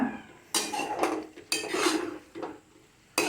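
Bread pizza filling being stirred in a pot, with a few sharp metal scrapes and clanks of a spoon against the vessel, separated by quiet gaps, close and fairly soft.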